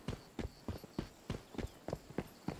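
Goat hooves clopping in the Once Human video game, a steady run of sharp hoof strikes in quick pairs, close and fairly loud with no talk over them.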